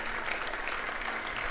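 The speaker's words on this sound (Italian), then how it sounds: "lo sentite l'applauso" Citizens lining a street applaud a funeral procession with a hearse escorted by carabinieri, a steady outdoor wash of many hands clapping at a moderate distance.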